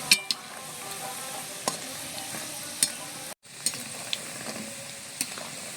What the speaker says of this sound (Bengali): বেশ সুন্দর লাল করে একদম মচমচে খাস্তা করে ভেজে নিয়েছি